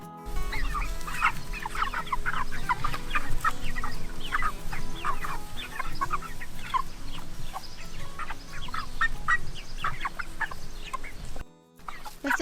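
A flock of 35 backyard chickens clucks and squawks busily at a feeder, a dense, continuous chatter of many birds close by, with no talking, cut by a brief drop near the end.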